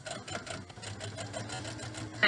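A sewing machine runs in reverse while stitching a face mask, a quiet, continuous mechanical whir with fast needle pulsing that lasts the whole stretch and ends in a short louder knock.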